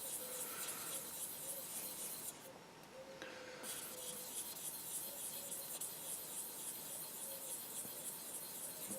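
Buffing stick rubbing over a Tamiya Calsonic Skyline model car body, a steady close rasping rub that runs throughout with a brief dip midway, no voices.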